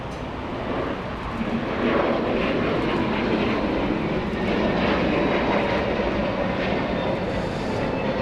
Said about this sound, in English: American Airlines taxiing a south side arrival